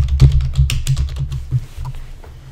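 Close, quick typing on a computer keyboard as a search is entered, a dense burst of key clicks that thins out and fades over a couple of seconds, with no talking.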